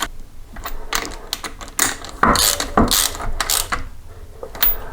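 A ratchet wrench tightens bolts during rear main seal replacement on a 1983 BMW R80ST motorcycle, with bursts of rapid close clicking separated by short pauses.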